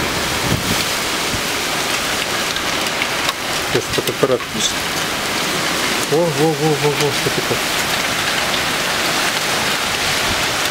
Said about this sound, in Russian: Да, град пошел.